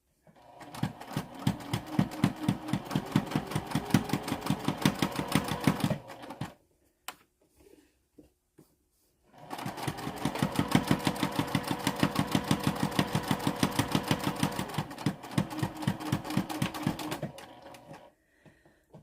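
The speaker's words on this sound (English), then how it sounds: "I'm just going to top stitch this guy at 1/8." A sewing machine top stitching a fabric pocket runs in two long rapid rhythmic bursts of mechanical stitching, close and steady, separated by a short pause with faint handling noise.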